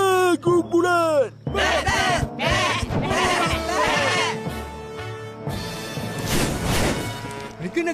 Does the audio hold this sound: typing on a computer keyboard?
no